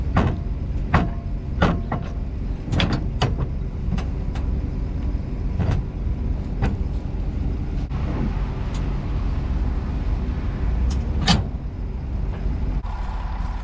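A pickup truck being hitched to a grain wagon on a farm, with several sharp metallic clanks and knocks over a steady, close engine idle, followed by a continuous rumbling drone.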